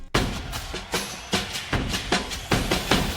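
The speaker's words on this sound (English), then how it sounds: "we got this drum fill out of this R&B / soul drum kit" A drum fill from an R&B and soul drum kit: punchy hits in a steady, evenly spaced run, loud and dry, with no voices.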